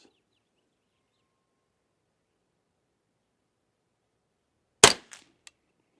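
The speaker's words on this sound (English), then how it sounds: "Middle target, 5 shots." A Volquartsen Snake fluted pistol fires at a target after a long near-silence. There is one sharp, loud crack, then a fainter echo and a small click shortly after.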